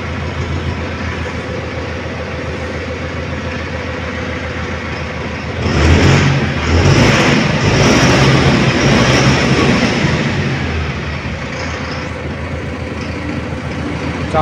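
A Mahindra Novo 605 DI tractor diesel engine runs steadily with a deep, throbbing rumble, swelling louder for a few seconds midway before settling back to an even idle.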